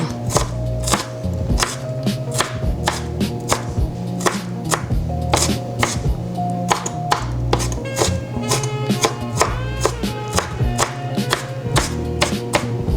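Rapid, steady knife chops strike a cutting board, crisp close-up thuds repeating in a brisk, even rhythm throughout.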